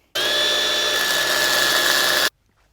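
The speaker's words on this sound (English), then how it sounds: "I'm going to just take to the grinding wheel and then just grind off all these edges" A bench grinding wheel grinds the edges off a bolt in one loud, steady, high-pitched burst lasting about two seconds. It stops abruptly into near silence.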